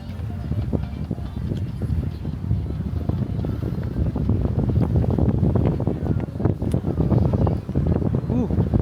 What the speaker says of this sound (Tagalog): Ang lakas ng hangin na naman.